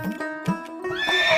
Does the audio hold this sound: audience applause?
no